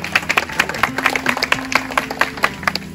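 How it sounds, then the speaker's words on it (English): Audience applause for a stage performer at a show in Tallinn, a steady run of dense claps at moderate level with irregular peaks, no talk over it. "Would we have a big round of applause for Lady Milajma?"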